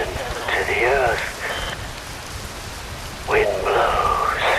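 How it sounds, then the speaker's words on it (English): Steady rain hisses down in the Metal Gear Rising: Revengeance video game, a broad constant wash with synthetic tonal sweeps rising and falling over it in two bursts. "Wind blows, rain falls."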